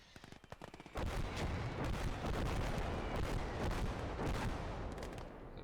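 Sniper and battlefield gunfire in the WWII strategy game Gates of Hell, a few sharp shots at first, then a dense, loud wall of continuous firing and explosions that carries on to the end.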